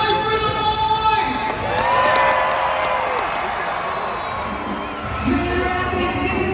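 A large arena crowd at a Monster Jam truck event in Grand Rapids cheers, whoops and claps continuously, a dense roar with scattered shouts and children's screams, loud and sustained throughout.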